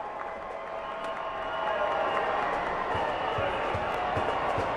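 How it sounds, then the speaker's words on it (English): New Mexico United's traveling supporters cheer a goal just before halftime at a USL Championship match against LouCity in Louisville, a broad, continuous crowd roar that swells slightly while a commentator's voice talks over it. "the traveling faithful from New Mexico finally have something to cheer about"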